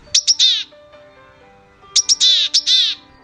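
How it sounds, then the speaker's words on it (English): A gray-headed chickadee, also called the Siberian tit, gives two bursts of high, buzzy call notes. Each burst has a few quick chips and then drawn-out rasping notes, loud and near, with a quiet gap between and faint background hum. "The gray-headed chickadee."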